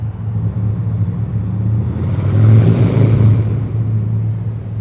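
Honda Shadow 750 Aero motorcycle engine rumbling steadily in an enclosed, echoing space, swelling louder midway as the throttle opens, a deep continuous drone with no talking.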